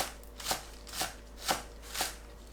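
A knife chops green onions on a cutting board in four evenly spaced, crisp strikes about half a second apart, close and fairly quiet, with no voices.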